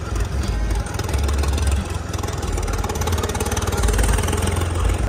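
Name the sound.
Ford tractor engine during tractor tug-of-war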